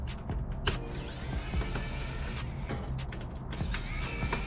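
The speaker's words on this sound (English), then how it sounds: "this automatic screwdriver that I'm using" A powered automatic screwdriver backs Phillips screws out of a Nintendo Wii console during disassembly, giving a steady close whirring motor buzz with small clicks and creaks, continuous throughout and with no talking.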